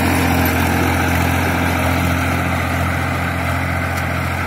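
A Massey Ferguson 1035 tractor pulling a 14-disc harrow runs at a steady, loud drone, its low engine hum constant and close with no talking.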